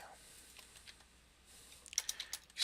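Faint keyboard typing, a short run of soft key clicks growing a little louder near the end, in a quiet room.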